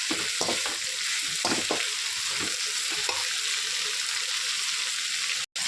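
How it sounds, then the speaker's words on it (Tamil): Onion and tomato with a little salt sizzle in oil in a pan while being stirred for chicken biryani, with a continuous loud fry and a few scraping knocks early on. "வெங்காயம் தக்காளி எல்லாம் நல்லா சேர்த்து மிக்ஸ் பண்ணி நல்லா வதக்கணும்."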